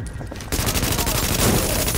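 Brief close automatic gunfire in Tom Clancy's The Division, a dense rapid rattle of rounds that starts suddenly after a muffled lead-in and keeps going without pause.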